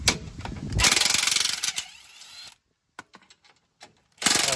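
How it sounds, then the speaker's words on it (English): A power tool with a 5/8 bit running loud and close as it backs out skid plate bolts on a Jeep Gladiator JT, whirring in bursts that stop abruptly, then light clicks and handling noises before it starts again. "we're gonna use a 5/8 bit to take these bolts out on each side here"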